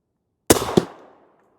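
A single sharp rifle shot from a Faxon FX7 bolt-action chambered in 8.6 Blackout, fired from a bench rest outdoors, with a loud crack, a quick second echo and a short fading tail.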